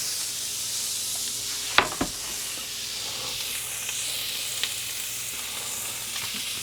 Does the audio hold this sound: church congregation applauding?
no